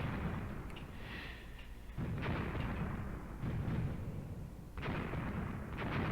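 80mm mortar shells from the video game Graviteam Tactics, set around Kharkov in 1942, land as a handful of muffled, distant booms spread over a low, steady rumble of battle.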